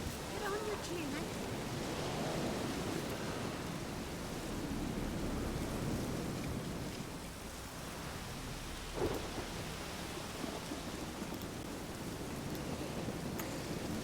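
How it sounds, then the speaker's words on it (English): Steady rain falls in The Witcher 3, a dense, even wash of downpour with a low rumble underneath, continuous and close throughout. "It's raining."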